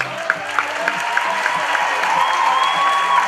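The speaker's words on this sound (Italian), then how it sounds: "la prima cosa che voglio fare io un applauso a loro" A concert crowd at Teatro Trocadero applauds its fans during a show, producing steady clapping with scattered sharper claps and crowd noise throughout.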